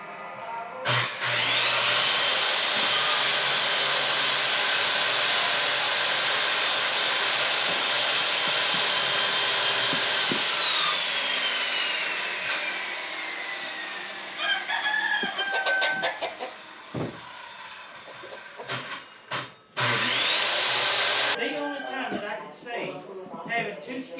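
A circular skill saw cuts wood while a chicken tractor is being built. The loud, high motor whine holds steady for about nine seconds, winds down, then a second shorter cut follows, with clunks and background sounds between the cuts.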